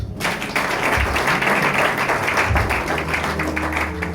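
A church congregation applauding during a New Year's night service, a dense burst of clapping that swells and holds for several seconds, with low music or voices underneath.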